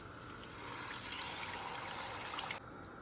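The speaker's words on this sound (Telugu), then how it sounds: "దీంట్లో పులుసు పోయాలండి" Tamarind water is poured into a pan of frying ginger garlic paste, a faint steady trickling, pouring wash that runs for about two and a half seconds and then eases off, with no talk.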